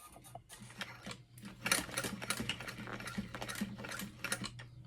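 A sewing machine stitches along the edge of a clutch wallet in a close, fairly quiet rapid mechanical chatter that runs nearly throughout with small pauses, and no voices are heard.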